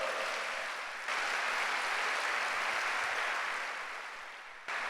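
Church congregation applauding at a large church congress, a dense steady wash of many hands clapping that surges and holds, then tapers off.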